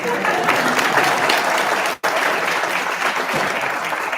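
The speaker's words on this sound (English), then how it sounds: "Clap for them." An audience at the ASBDA National Honor Band event claps in a loud, continuous burst that is cut by a brief dropout midway and then carries on.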